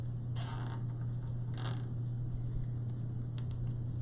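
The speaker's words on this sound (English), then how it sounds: "It's raining." Rain pattering outdoors in a soft, steady, fairly quiet wash, with a low electrical hum running constantly underneath and no voices.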